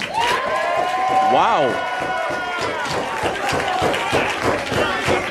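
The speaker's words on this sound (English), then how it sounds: "give him a round of applause" A live wrestling crowd applauds and cheers, a dense wash of clapping with a rising whistle or shout near the start, while a voice speaks over it.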